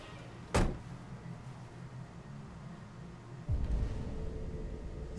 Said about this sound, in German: Hörst du den Hanks Auto?